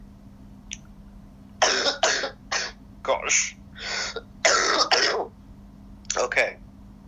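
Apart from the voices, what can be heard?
coughing and throat clearing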